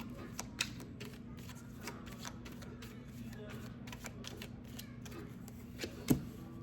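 Tarot cards are shuffled in a steady, soft riffle of quick flicks with a few sharper snaps, close but faint over a low background hum.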